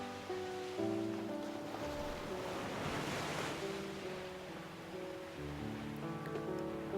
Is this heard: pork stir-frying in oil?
no